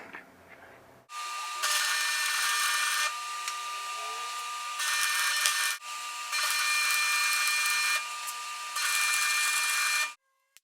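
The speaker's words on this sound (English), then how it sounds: "Well, cut the front of that bumper off." Metal is cut off the front bumper of a 1955 Willys Jeep CJ5 in several loud, sustained bursts of harsh power-tool grinding with short pauses between them, heard close up.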